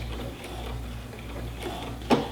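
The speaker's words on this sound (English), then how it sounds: "I'm going to sew a couple of stitches, and I'm going to do a back stitch." Sewing machine running a short back stitch while attaching Velcro hook-and-loop tape with white thread, a steady low mechanical whir and ticking with a brief louder clunk near the end.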